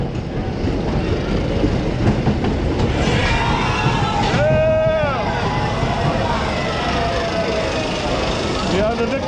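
Front-seat ride on Joris en de Draak, a wooden racing roller coaster, with loud rattling track roar, clattering wheels and a whooshing rise and fall of wind, riders shouting faintly underneath.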